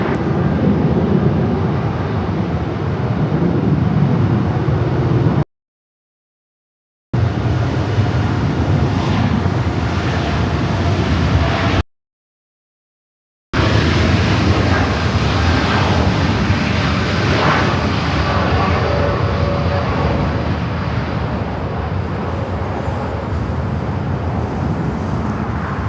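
An airliner rolls down runway 24 Left at LAX, a loud, steady broadband roar of engines that runs continuously, broken by two brief gaps, and holds strong throughout.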